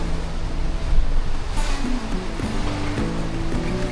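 Choppy, confused seas wash and slap around a Nautitech 40 catamaran sailing in about 15 knots of wind off Tahiti, a steady close rush of water with wind and low hull tones throughout.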